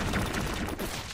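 Dense, continuous video-game gunfire from Broforce, a rapid fusillade of shots that fills the whole brief moment at steady loudness.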